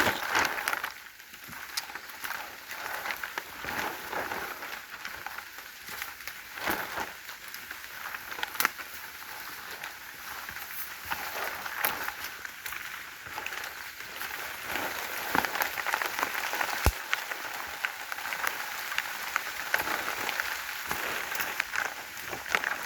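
Steady rain in a storm patters continuously on surfaces in Wisconsin, a dense, even hiss with scattered sharper drops, building slightly louder in the second half with no voices.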